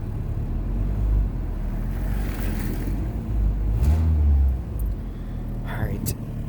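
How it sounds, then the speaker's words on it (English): A car engine, on a mom's car cleared of snow, revs under low rumbling idle noise, swelling once in the middle, close and fairly loud, with someone speaking briefly. "Do a little rev."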